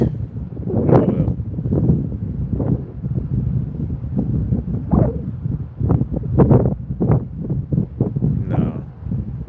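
Gusty wind beside railroad tracks at 23rd Street batters the microphone in loud, irregular thumps and rumbles, heavy throughout and with no clear voices.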